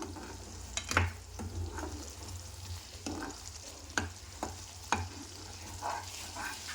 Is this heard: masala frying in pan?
yes